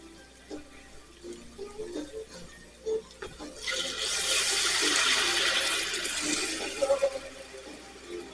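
Water pours into a cooking pot while stuffed beef tongue is being prepared in a Cajun kitchen, a steady rushing splash that swells loud for several seconds after quieter clatter and handling sounds.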